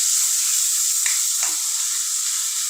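Raw mango cooks in a pan as it is stirred, giving a bright, continuous sizzle up close with a couple of faint scraping touches from the spoon.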